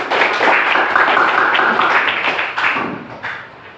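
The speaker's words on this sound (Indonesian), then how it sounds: "Nah, tepuk tangan untuk kita." Children in a classroom clap their hands together in a dense, sustained burst that is loud and close and tapers off toward the end.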